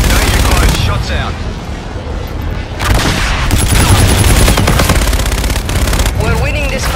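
Heavy gunfire in a Call of Duty: Infinite Warfare multiplayer match, loud sustained automatic bursts and booming impacts filling the whole stretch, with game voice callouts mixed in.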